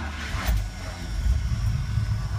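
A 1979 Chevy truck engine idles on a cold morning with a slight knock in the motor, giving a close, continuous low rumble that stays steady throughout, with no talking.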